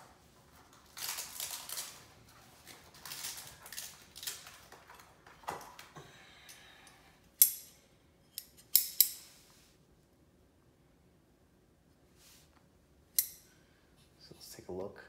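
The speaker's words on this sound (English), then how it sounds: "let's get the sharpest scissors that we have" Sharp scissors cut a lemon tree bonsai branch, giving a few crisp, close snips in a quiet room with a voice talking before them.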